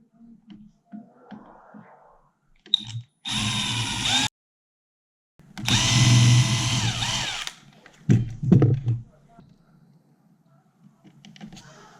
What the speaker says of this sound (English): So I drill right here